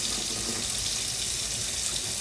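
Tap water runs steadily while white rice is rinsed clean before going into a pot, a close, loud, continuous broadband splashing hiss with no talking.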